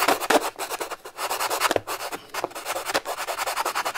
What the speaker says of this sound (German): Und dann auch wieder mit der Feile vorsichtig